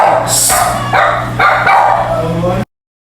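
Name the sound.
dog barking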